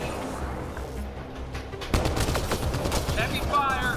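Heavy gunfire in the video game Mass Effect: Andromeda, with rapid shots crackling through a busy battle mix that grows louder midway, bursts repeating close and sharp while a voice calls out over the fighting.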